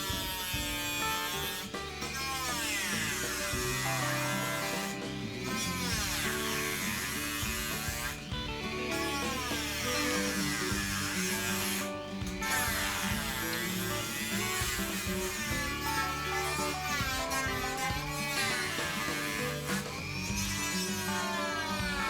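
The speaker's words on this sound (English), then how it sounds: "Fit your Dremel hand grinder with a medium grit sanding drum and begin sanding through the 1/32 inch" Dremel hand grinder with a medium grit sanding drum working through thin 1/32 inch plywood on a model airplane cowl, a continuous high whining buzz with brief dips as the tool lifts off, steady throughout.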